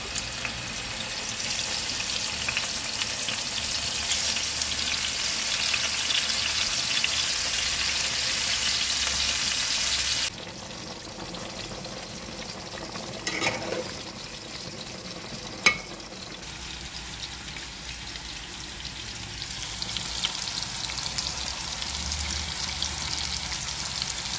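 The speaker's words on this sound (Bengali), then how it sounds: "তেলটা গরম হয়ে গেছে, এখন আস্তে আস্তে মাছগুলো দিয়ে দেব।" Fish fries in hot oil in a frying pan with a loud, steady close sizzle that suddenly drops midway, then a quieter stretch with a sharp clink before the sizzle builds again.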